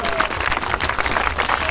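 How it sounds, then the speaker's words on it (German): A large outdoor crowd of spectators at the Ossiloop 2011 relay race finish in Ostfriesland applauds the top runners. The clapping is dense and steady, with faint voices mixed in. "die beiden Jungs kriegen nochmal einen riesigen Applaus"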